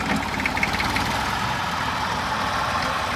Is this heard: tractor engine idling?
yes